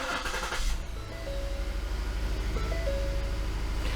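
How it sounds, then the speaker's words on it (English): A car engine cranking and catching during a battery cranking test, a rough burst of turnover followed by a steady running idle with a faint whine, close and fairly loud, no voices. "start the vehicle"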